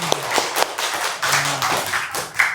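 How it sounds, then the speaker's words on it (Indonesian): Students clap their hands in a school gymnastics lesson, a few sharp, close claps and taps standing out over a busy classroom room tone. "tepuk tangan untuk kalian semua."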